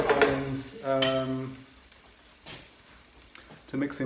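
Tomato puree frying with onions in a pan gives a soft, low sizzle. A voice talks over the first part, then the frying carries on quietly with a few light clicks.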